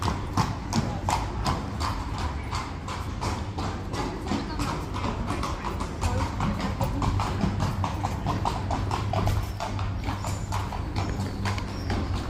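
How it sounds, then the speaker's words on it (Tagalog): Horse hooves clip-clop steadily on a street in Seville, Spain, a continuous rhythmic clatter close by over a busy background of city ambience. "Ayan, may kasabay po kami na kabayo."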